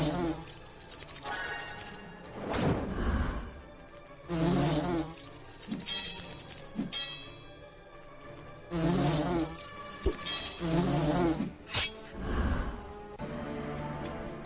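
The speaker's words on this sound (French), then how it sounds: "Avec un fléau, chasser des guêpes, c'est pas facile." Wasps buzz in the video game Lords of Xulima, their insect drone swelling and fading in repeated loud bursts, close and without talk.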